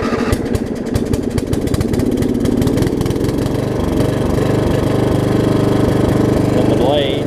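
Small-engine lawn mower running with its blades engaged, a loud, steady, close chugging drone that holds constant throughout, with no one talking over it.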